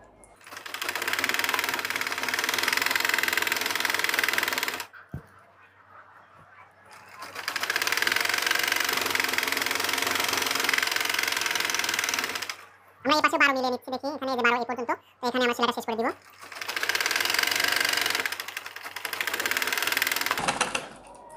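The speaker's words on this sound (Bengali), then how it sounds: "এই সেলাইটা আমরা অবশ্যই ডাবল সেলাই দিব" Sewing machine stitching a seam on trouser-style pajamas, running in long steady bursts with short pauses between, while a person talks over parts of it.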